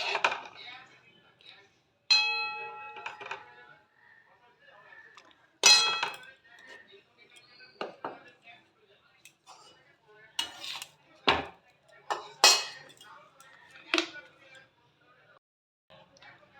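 Dishes and utensils clink while potato curry is served up for a spinach paratha breakfast: a series of sharp, bright metallic clinks arriving in irregular bursts, close and fairly loud, with quieter handling sounds between them.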